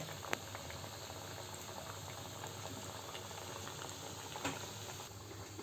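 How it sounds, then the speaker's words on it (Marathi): Rice vadis fry gently in oil over a low flame, giving a steady, soft bubbling hiss that stays faint and even, with an occasional small pop and no voices. "अशा ह्या वड्या गोल्डन ब्राऊन होईपर्यंत मंद आचेवर तळून घ्याव्यात"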